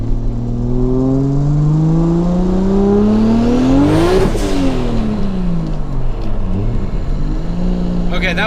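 A tuned car with rolling antilag accelerates hard nearby, its engine note climbing steadily with a loud whir, peaking as it passes close, then dropping away and briefly rising again.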